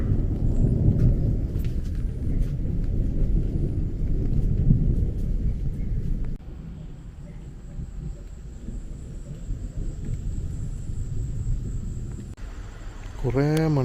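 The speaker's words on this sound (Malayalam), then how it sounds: "കുറേ മണിക്കൂറുകളായിട്ട് ഇടിയാണ്" Thunder rolls through a long, low rumbling swell over a Kerala home with only light drizzle, fading to a quieter background before a brief tonal sound near the end.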